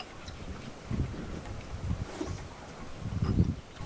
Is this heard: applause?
no